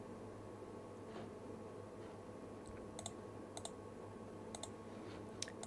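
Faint, sparse computer mouse clicks tick out in small clusters over a low steady room hum and fan noise during a live online yarn shopping broadcast, with no voices.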